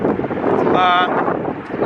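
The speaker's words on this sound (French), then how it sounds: "Il fait pas très froid, beaucoup de vent par contre." Strong gusty wind outdoors in a city, buffeting the microphone with a continuous loud roar throughout, while someone speaks over it.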